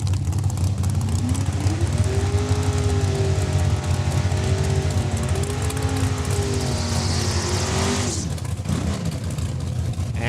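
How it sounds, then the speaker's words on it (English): A drag race car warming up its rear tires at Saskatchewan International Raceway in Saskatoon, its engine roaring loud and steady with rising and falling revs, ending in a hissing screech before cutting off. "Jamie Fiesel warming up the rear tires."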